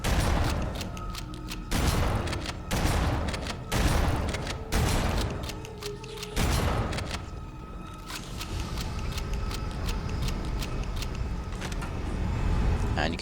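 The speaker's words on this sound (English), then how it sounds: "so that the grenade blasts them, throws them away from you. Just keep shooting." Gunfire and grenade blasts in the game Halo CE: Anniversary, loud and continuous, with repeated heavy bursts and booming impacts over steady action noise and no talking.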